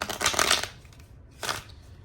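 Tarot cards being shuffled by hand, two short papery riffling bursts: a longer one at the start and a briefer one after a quiet pause.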